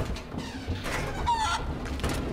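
Cartoonish chicken clucks and squawks from a chicken in a vent in Lego Jurassic World, a few short bursts close and clear over quiet game ambience.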